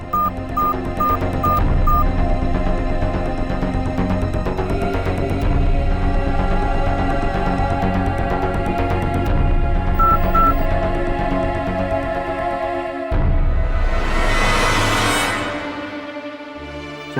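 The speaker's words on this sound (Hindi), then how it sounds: "उन्हें फोन करता हूँ।" Telephone dialing in a Hindi horror drama, a short series of evenly spaced beeping tones at the start and a couple more later, under loud background music with a rising whoosh near the end.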